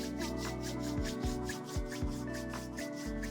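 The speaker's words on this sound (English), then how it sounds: "rub your palms" Palms rub together steadily in a slow back-and-forth rhythm during a gentle yoga session, soft and close, over a sustained background of calm music with no talking.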